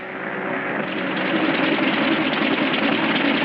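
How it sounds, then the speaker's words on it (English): A steady, continuous engine drone from an aircraft with engine trouble, rising slightly at the start and then holding loud and even throughout, with no talk. "Engine trouble, sir."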